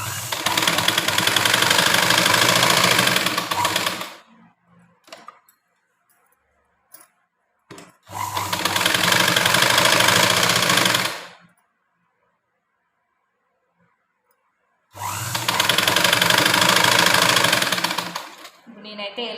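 Sewing machine stitching a blouse, loud steady whirring runs of several seconds each, three bursts separated by quiet gaps with faint handling sounds.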